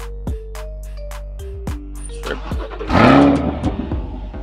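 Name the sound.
car engine revving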